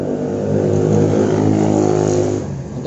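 A Honda Beat ESP, Scoopy ESP or Genio scooter idles and revs steadily with a faulty, rattling CVT, giving a loud, continuous engine drone that eases slightly near the end, with no voices.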